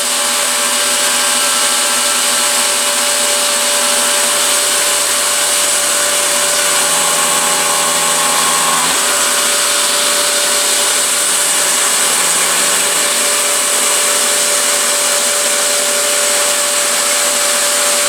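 A CNC milling machine makes a light finishing pass along fixture edges at 5,000 RPM and 20 inches per minute, giving a steady, loud, high whine with a constant tonal hum and no pauses.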